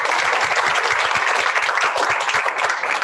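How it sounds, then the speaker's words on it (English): Audience at a board of directors meeting breaks into dense, steady applause, loud and sustained with many hands clapping together and little else audible. "deserves a round of applause"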